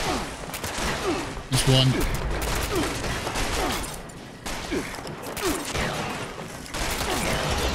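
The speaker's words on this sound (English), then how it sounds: "If they stop shooting me for a second, I might be able to shoot their arms off." Rapid gunfire from a Fallout 76 firefight, with dense bursts and repeated shots crackling almost continuously and a few heavier blasts mixed in, while someone talks briefly over the action.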